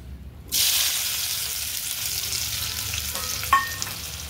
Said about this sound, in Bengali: দেখুন তেল কিন্তু গরম হয়ে গেছে। এখন দিয়ে দেবো এই যে কেটে রেখেছিলাম পেঁয়াজ